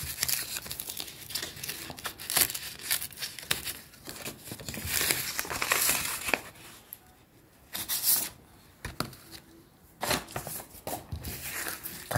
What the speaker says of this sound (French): Je suis en train de tout déchirer.